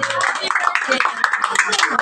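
Hands clap steadily at a Filipino birthday mañanita gathering, a brisk, close patter running under overlapping talk and singing voices.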